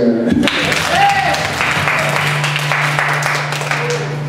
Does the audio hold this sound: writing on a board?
no